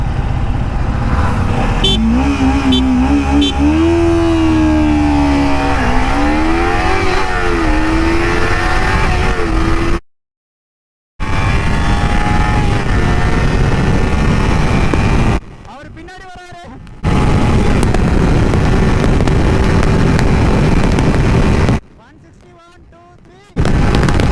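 A Kawasaki Ninja 300 BS6 motorcycle revs and accelerates hard in a drag race against a Duke 390. Its loud engine whine climbs through repeated gear shifts, with a voice talking over it and a few short silent gaps.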